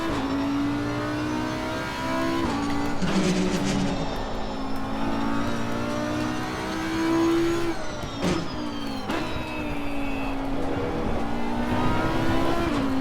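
Race car engine in the sim racing game Assetto Corsa Competizione, droning and rising in pitch through the gears with sharp shifts and brief drops, loud and continuous with no talk.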